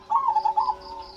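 A perkutut, or zebra dove, gives a short, close, clear run of soft rolling coos, several quick pulses strung together in about half a second, then trailing off.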